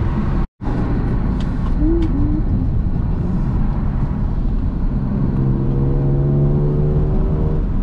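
An E46 BMW M3 on the road, heard from inside the cabin as a steady loud low drone of engine and exhaust, with a rising tonal whine of induction building through the latter half.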